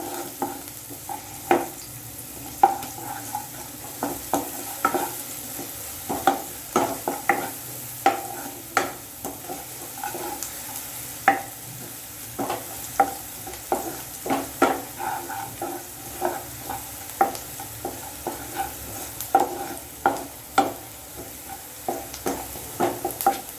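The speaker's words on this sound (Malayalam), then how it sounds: "ഇതൊന്ന് നല്ലതുപോലെ വഴണ്ട് വരട്ടെ." Chopped onion, garlic and green chilli sauté in a hot pan, a steady sizzle broken by frequent scraping stirs of a spoon, close and fairly loud with no talk.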